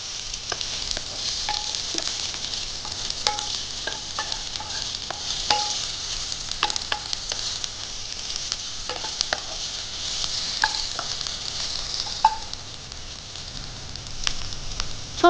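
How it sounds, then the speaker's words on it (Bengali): Onions and chopped capsicum are stirred as they sauté in a pan: a constant hissing sizzle broken by frequent sharp taps and scrapes of a spatula against the pan. "পেঁয়াজগুলো হালকা নাড়িয়ে চাড়িয়ে ক্যাপসিকাম কুচিগুলো দিয়ে দিচ্ছি।"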